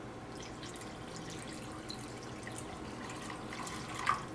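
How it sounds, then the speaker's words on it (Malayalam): About one and a half cups of water runs into two cups of sugar in a heavy, thick-bottomed pan, the start of syrup for Karachi halwa. The pour is a steady, close trickle and splash with a small drip near the end. "ഇതിലേക്ക് വെള്ളം ചേർക്കുക."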